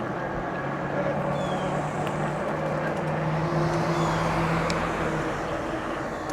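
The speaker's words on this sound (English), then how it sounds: "There's cars everywhere today" Street traffic hums steadily from several cars on a busy road, a continuous moderate engine and tyre rumble heard from a bicycle, with someone talking over it.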